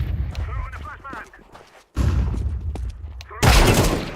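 Flashbang grenade going off in a shooter video game, a sharp loud blast that ends the clip, heard after earlier gunfire-like bursts and a speaking voice.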